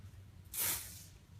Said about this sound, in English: Let me spray this in your face.